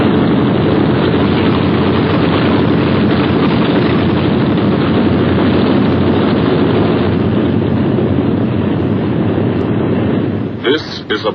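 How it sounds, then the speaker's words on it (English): Deep, sustained roar of B-17 Flying Fortress bomber engines in flight over the English countryside, loud and unbroken, fading slightly near the end with a brief burst. "Only the roaring engine sound of the bombers pounding through the quiet English countryside."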